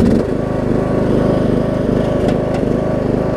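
Troy-Bilt Bronco riding lawn mower engine running steadily up close, a loud continuous droning rumble with a slight surge and a couple of faint clicks, no talking.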